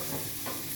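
Vendace fish fry and brown in a hot pan, giving a brief, steady, close sizzle with a slight stirring scrape.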